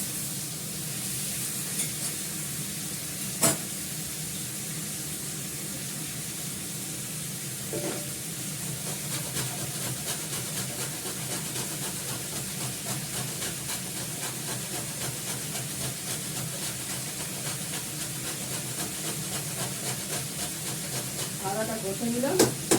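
Vegetable curry sizzles steadily in a wok while being stirred, with a constant frying hiss, occasional sharp scrapes and clinks of the utensil, and faint background voices.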